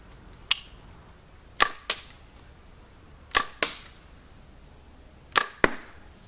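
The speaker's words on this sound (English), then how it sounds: "let's hit that particle board up there on my catch box and see" A homemade card-shooting gun fires playing cards into particle board on a catch box, three paired sharp snaps, each launch followed closely by an impact crack, evenly spaced against a quiet background.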